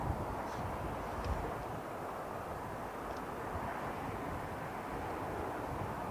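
A steady broadband jet roar from a Boeing 787 Dreamliner at Heathrow Airport, distant and constant throughout, with a wind-like rumble and no voices.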